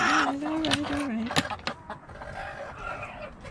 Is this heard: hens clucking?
yes